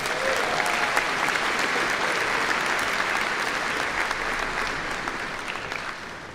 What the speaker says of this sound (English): Let's give Sarah and Nicholas a warm round of applause again.